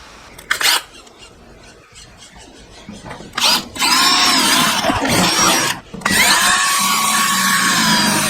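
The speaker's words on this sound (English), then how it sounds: "I need to go drill those 2 holes and then install the riv nuts" A power drill boring holes into a garage door to fit rivet nuts: a loud, whining motor rises in bursts, with higher-pitched grinding as the bit bites into the metal, after a quieter stretch of handling sounds.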